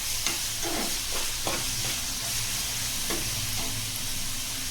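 Ground masala for egg curry sizzles steadily in a pan, broken by several brief scrapes and stirs of a spoon, continuous close frying with no voices.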